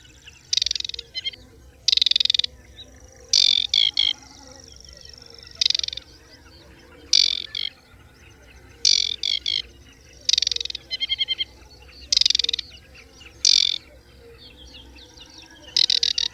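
An aquatic warbler calls at the edge of a bog, giving bright, buzzy, chattering phrases in short repeated bursts every second or two over a quiet background hiss.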